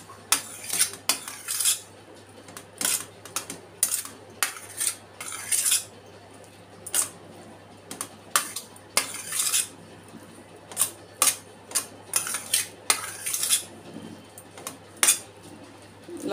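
A spoon stirs boiled rice in a pot, making a run of sharp metallic clinks and scrapes against the vessel at an irregular, busy rhythm, close by with quiet pauses between bursts and no talking.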